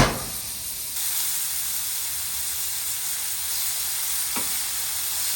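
80-20 ground beef searing on a hot Traeger griddle at medium heat, a loud steady broadband sizzle that starts abruptly as the meat hits the surface and holds evenly throughout, with no talking.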